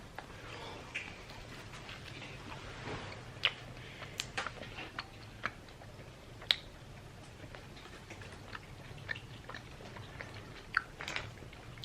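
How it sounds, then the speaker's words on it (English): Someone chews porra, Spanish fried dough, after dipping it, with soft, close munching punctuated by scattered crisp bites and clicks against a quiet, low room hum, with no talking. "we're gonna go in for the dip with the porra first. My first taste of porra."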